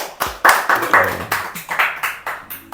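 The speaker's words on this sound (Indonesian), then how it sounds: "Tepuk tangan dulu dong." An audience at a village podcast event claps in a few loose rhythmic bursts, close and fairly loud, with no talking over it.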